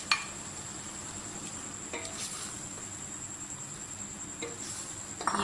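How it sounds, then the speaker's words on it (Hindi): Minced meat added to garlic and ginger frying in a pan, a steady low sizzle with a few sharp utensil clinks against the pan, close up. "अब कीमा डाल दें।"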